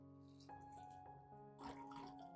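Hot water pours steadily into a container holding onion, a soft trickling sound that grows a bit louder and splashier toward the end.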